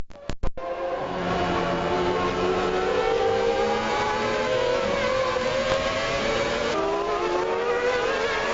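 Michael Schumacher's Formula One car screams along the track, a sustained high-revving engine whine that climbs and shifts pitch over several seconds after a few sharp bursts at the start.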